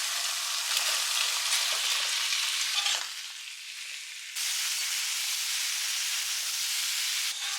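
Pumpkin and pointed gourd fry in a pan with dried red chilli and bay leaf, a loud steady sizzle that dips briefly for about a second before surging back to full strength.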